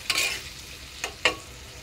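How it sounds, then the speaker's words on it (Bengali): Food sautéing in a pan over a flame: a brief burst of sizzle and stirring, then two short, sharp scraping strokes over a faint background hiss. "জাল দিয়ে কষাই নিব।"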